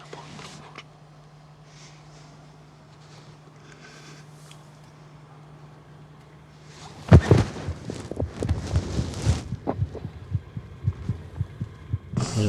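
In film sound design, a father's heartbeat begins as a soft low hum and then turns into loud, close, rhythmic thumping beats that continue steadily to the end.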